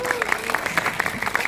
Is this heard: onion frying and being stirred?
no